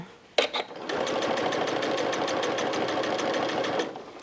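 A sewing machine with an adjustable bias-binding foot stitches bias tape onto a waterproof bib, starting with a couple of short bursts and then running steadily in a fast, even rhythm, loud and close.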